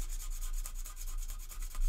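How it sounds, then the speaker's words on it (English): Sanding a resin model part by hand, a quick series of rhythmic scratchy strokes, close and fairly quiet with no talking. "I'm just gonna sand it a little bit"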